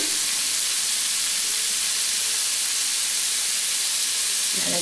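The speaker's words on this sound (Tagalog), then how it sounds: "Ilagay na natin yung bawang at sibuyas," Garlic and onion hit a hot pan for pork head paksiw, giving a steady, loud, close sizzle and hiss that runs continuously without talk.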